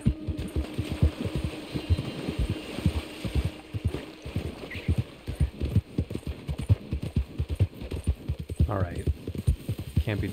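Horse hooves clip-clop in steady, fairly close rhythm while riding in the video game Red Dead Redemption 2, with a rider's voice calling out over the hoofbeats.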